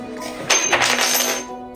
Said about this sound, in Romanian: eu scap cheia pe jos